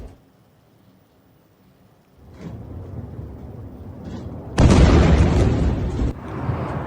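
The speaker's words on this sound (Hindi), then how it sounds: "और ये देखिए धमाका, जोरदार विस्फोट।" A missile strike explosion from an Israeli attack on Iran rolls out as a heavy, distant-sounding boom, rising from quiet into a sustained roaring blast that lingers and slowly decays.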